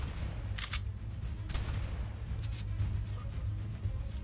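Gunfire from a firearm in the video game Ark: Fjordur, a few sharp, moderately loud shots spaced irregularly over a low, steady game ambience, with no speech.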